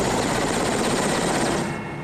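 A helicopter carrying tourists to the Valley of Geysers in Kamchatka gives off a dense, loud, steady rotor and engine roar that eases slightly at the end.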